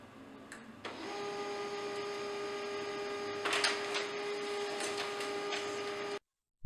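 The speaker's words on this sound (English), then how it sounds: "send it to the laser printer via Wi-Fi" A laser printer prints onto matte laser film in A6 format, giving a steady mechanical whir with a constant tonal hum that starts after a brief pause and runs on evenly before stopping abruptly.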